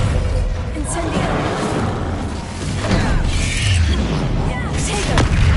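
Fire spell Incendio cast repeatedly in Hogwarts Legacy combat, a dense, loud stream of whooshing bursts and booms layered with other spell impacts and battle noise throughout.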